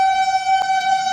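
At Latur station, a train sounds its horn as it arrives: one loud, sustained, steady tone with rich harmonics, close by and clear of any talk.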